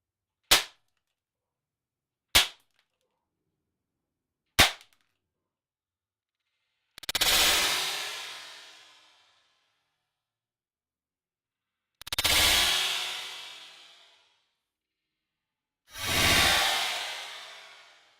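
Three sharp BB gun shots strike a face shield in quick succession, then three louder, longer bursts of impact or shattering noise follow with gaps between them, close and alone with no talk.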